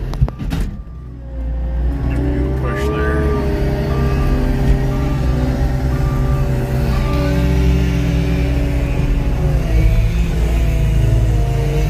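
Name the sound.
skid steer engine running while moving tree logs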